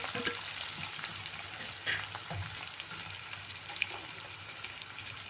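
Faint, steady sizzling and crackling of a chopped large onion frying in a pan, with light scraping from stirring and no talking.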